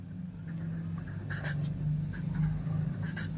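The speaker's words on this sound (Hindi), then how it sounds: "तो यहाँ पर लिखते हैं" Marker or pen scratching out strokes on a board during a class 10 trigonometry lesson, faint and close, in short bursts with pauses and no talking.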